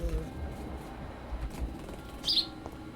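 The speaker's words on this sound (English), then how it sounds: "sorry if you hear the bird in the background." A single bright bird chirp sounds briefly in the background, faint against a low room rumble.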